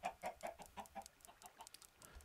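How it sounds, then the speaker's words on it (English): Chickens in a Minecraft-style video game cluck in a quick run of short, evenly spaced calls that thin out toward the end, faint and without voices. "Two mad chickens now."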